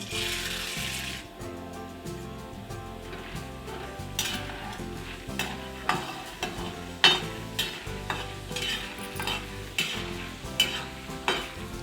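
Oil sizzles steadily in a pan while ingredients fry for ragi chivda, a finger millet snack, with rhythmic stirring scrapes and occasional utensil knocks close by.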